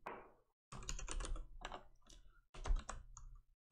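Computer keyboard being typed on while entering a command in an Ubuntu server terminal, with fast bursts of clattering keystrokes separated by short pauses, close and clear with no talk.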